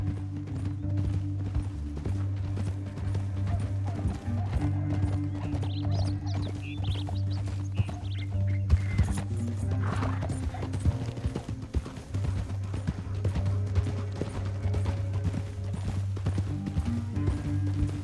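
Horse hooves in Red Dead Redemption 2 clop at a steady gallop, rhythmic and continuous, over a low mechanical rumble with occasional clanks.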